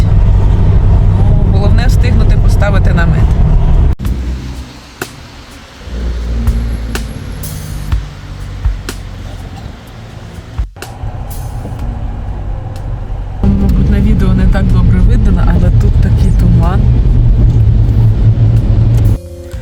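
Car creeping along in a traffic jam on a drizzly day, a continuous low engine and road rumble heard from inside the car, with people talking over it.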